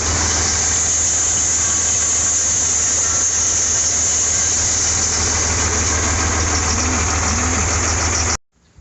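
A skid steer's engine runs steadily at a near, even mid-range rumble while moving equipment around a farmyard and barn, continuous for about eight seconds before cutting off abruptly.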